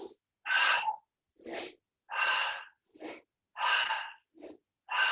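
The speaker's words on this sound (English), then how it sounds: "Inhale, exhale." Deep, forceful breathing during a morning breathwork and stretching routine: a steady rhythm of loud inhales and exhales, roughly eight breaths in five seconds, close to the listener with no talking.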